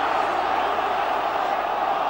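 A football stadium crowd at a 1992 FA Cup sixth-round tie between Portsmouth and Nottingham Forest, a steady, loud wash of massed voices roaring and jeering without pause across the whole moment.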